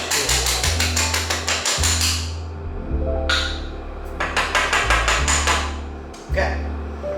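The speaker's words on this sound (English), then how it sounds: "I give it a tap tap just to release any of those beans stuck in the burrs" A burr coffee grinder tapped to free beans stuck in the burrs: a close series of sharp metallic knocks in quick bursts, with short pauses between groups and a low hum underneath.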